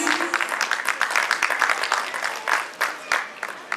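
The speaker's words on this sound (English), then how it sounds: "Give a big round of applause" A school annual function audience claps, with uneven, bursting applause that swells and dips and includes a few sharp individual claps close by.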